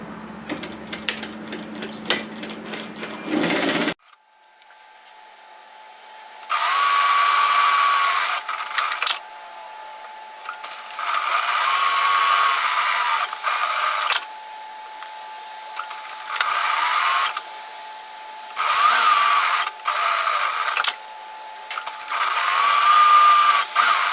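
A domestic sewing machine stitches apron fabric pieces along a long edge in several bursts, each a few seconds of fast, steady whirring separated by quiet pauses, preceded by brief handling noise.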